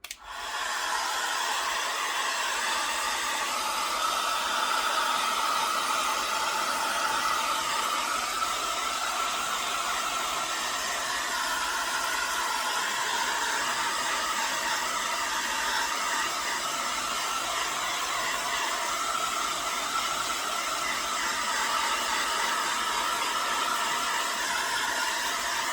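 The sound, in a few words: heat gun drying watercolor paint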